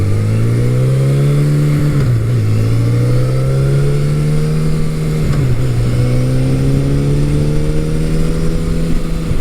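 A 1983 Suzuki GS1100E motorcycle on a test ride, its engine loud and close, revving up through two gear shifts with brief dips in pitch between steady pulls, and no talking.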